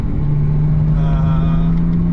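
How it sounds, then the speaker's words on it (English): A BMW M2 Competition exhaust holds a steady, moderate low drone, smooth and unhurried rather than loud, lasting throughout without sharp revs. "The exhaust is, as you can hear, it's absolutely not overwhelming."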